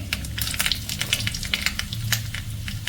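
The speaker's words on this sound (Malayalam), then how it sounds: "വെളിച്ചെണ്ണ ചൂടായിട്ടുണ്ട് ഇനി ഇട്ട് കൊടുക്കാം ഇനി നമുക്ക് വറ്റൽമുളക് ചേർത്ത് കൊടുക്കാം" Dried red chillies dropped into hot coconut oil, a close, crackling sizzle with scattered sharp pops and a low background hum, moderately loud and steady.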